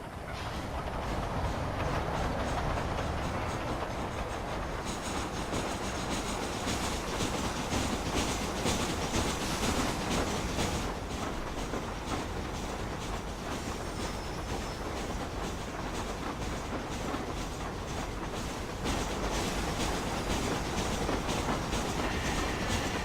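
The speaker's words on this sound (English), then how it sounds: "The train would definitely be a faster mode of transportation" Train ride in the video game Red Dead Redemption: continuous rumble of a moving train with steady wheel clatter on the rails, loud and close, alone with no talk.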